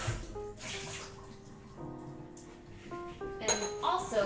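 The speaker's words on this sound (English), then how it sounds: "I'm gonna rinse our bowl from earlier." A bowl being rinsed at a kitchen sink while cooking honey chicken mac and cheese, with running tap water and several clinks of dishware knocking against the basin, close and moderately loud.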